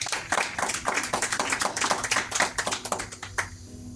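A church congregation claps for the Lord during a Spanish sermon. The hand claps are distinct and fairly rhythmic, a few seconds of moderately loud clapping that thins out toward the end.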